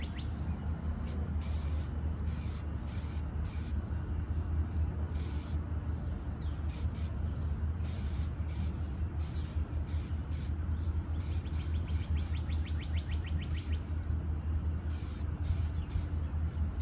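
A spray gun mists a light tack coat across a hydrographics piece, giving a steady, close, continuous airy hiss with no pauses and no talk.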